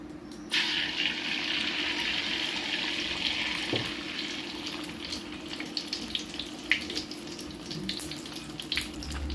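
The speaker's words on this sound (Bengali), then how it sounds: "আমার তেলটা গরম হয়ে গেছে এখন আমি এর ভিতরে দিয়ে দেব ডিম" An egg hits hot oil in a pan for a potato and egg curry and starts a sudden, steady sizzle that carries on close by with small crackles and pops and no voices.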